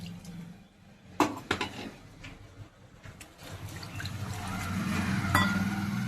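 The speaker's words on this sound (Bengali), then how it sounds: "এবার দিয়ে দিচ্ছি আমি পরিমাণ মতো জল" Water is poured into a pan of potato and pointed gourd curry, a few utensil clinks followed by a swelling gush of liquid that grows louder toward the end.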